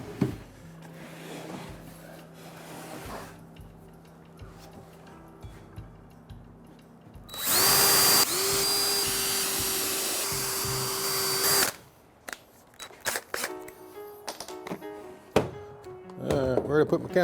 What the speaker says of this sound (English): go ahead and screw the bottom together